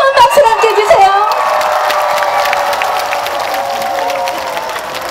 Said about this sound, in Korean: 뜨거운 박수 함께 주세요.